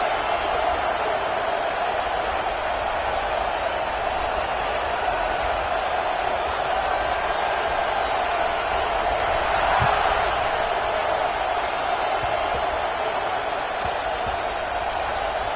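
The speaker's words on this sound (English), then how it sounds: "this crowd is buzzing after that last score" Steady roar of a football stadium crowd in a video game, a dense continuous murmur with slight swells and no clear breaks, under a faint commentator's voice.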